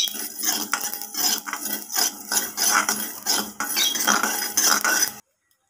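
Poppy seeds fry in a metal pan while a spoon stirs them, making continuous close scraping and clinking with gritty rustling, then stopping abruptly.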